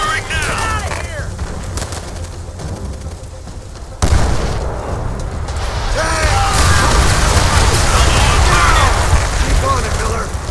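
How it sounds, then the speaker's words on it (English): Offshore rocket strike in the World at War game: a dense, booming barrage of rocket blasts and gunfire erupts partway through and roars on steadily, with soldiers' voices shouting over the battle. "Offshore rocket strike at the ready! Firing now!"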